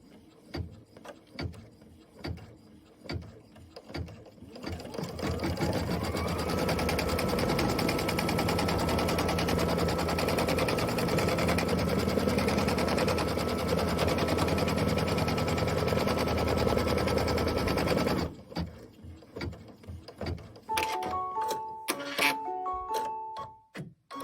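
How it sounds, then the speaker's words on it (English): An embroidery machine sews a mitten tack-down line in white thread, a steady rapid stitching buzz that starts after a few clicks and runs for over ten seconds before stopping, followed by beeps. "Now we're going to do our mitten tack down line"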